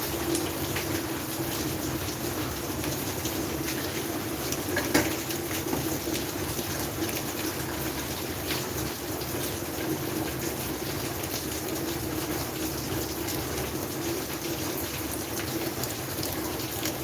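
Rain pours down without a break, a thick, continuous patter and hiss of drops on surfaces, close and steady, with no voices.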